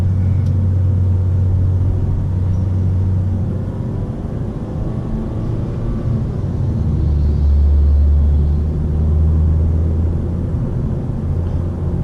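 Engine rumble from a 2016 Mazda 3 with a 2.5-liter engine while driving: a loud, steady low drone with road noise, swelling slightly partway through, with no talking.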